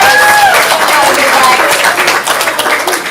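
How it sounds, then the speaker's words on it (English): Audience applause at a ComedySportz improv comedy show in Portland, loud full clapping from a crowd that holds steady and then eases slightly, with a few faint voices and whistles mixed in. "Give yourselves a big round of applause."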